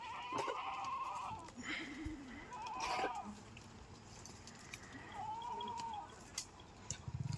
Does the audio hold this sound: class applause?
no